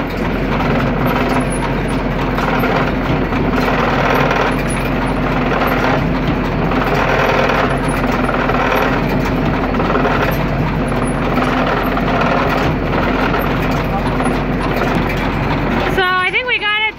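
A farm machine runs steadily with a constant, loud mechanical drone throughout while its drive chain is tightened, and a brief whirring rise comes near the end.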